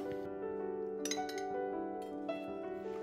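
Glass jars clink and ring sharply several times while fermented bean curd is bottled, bright chinks with lingering resonant tones close up, a few separate knocks over a few seconds, no talking.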